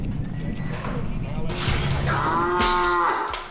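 Cattle on a farm where cows are being vaccinated, with loud, close moos rising in the second half over a busy barn background of shuffling and clatter, while people talk.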